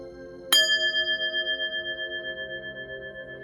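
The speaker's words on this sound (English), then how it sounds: "I'm going to ring the bell" A single bell struck once, rung before a tarot card reading, giving a sharp clear onset and a long ringing tone that slowly fades and pulses over a few seconds, alone in a quiet room.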